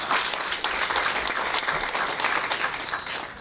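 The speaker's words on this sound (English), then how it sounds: "Let's give all our panelists a hand clap." Audience applause for panelists at a church community celebration, a dense steady wash of many hands clapping throughout, slowly tapering toward the end.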